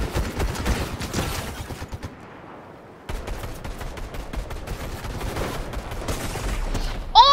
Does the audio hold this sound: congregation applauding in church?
no